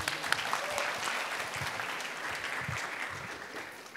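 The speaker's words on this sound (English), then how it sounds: "let's give her another round of applause" Steady applause from an audience at a student showcase panel, a dense patter of many hands clapping continuously throughout without a break.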